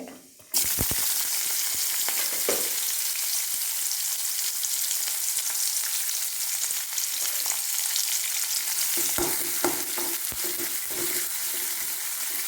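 Mustard seeds, fenugreek, crushed ginger and garlic, slit green chillies and chopped shallots frying in coconut oil, a loud continuous close sizzle that starts abruptly and holds steady, with occasional stirring clinks and pops.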